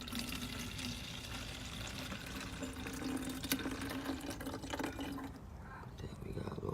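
Leftover sea moss juice poured into a container, a steady liquid trickle with faint splashing close by, voices heard over it.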